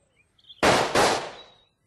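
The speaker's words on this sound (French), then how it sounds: "Je constate que 2 balles ont été échangées sans résultat." Two pistol shots fired in quick succession during a 1904 duel, each a loud sharp crack with a short fading tail, the second following about a third of a second after the first.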